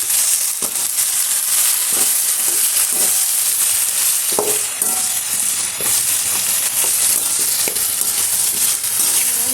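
Poppy seeds and tomato frying in oil in a pan for a gravy, giving a loud, steady, dense sizzle with occasional stirring scrapes and no talking.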